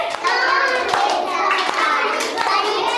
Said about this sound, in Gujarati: ત્રણ કેતા તાળી પાડીએ